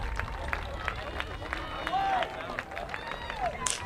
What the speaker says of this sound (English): Getting a roaring amazing cheer from the crowd.